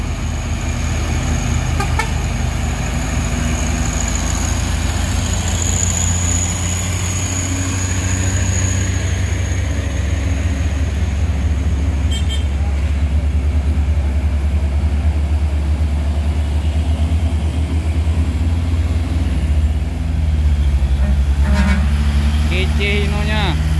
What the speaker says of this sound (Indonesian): ramai truk yang sedang melakukan pendakian di bawah sana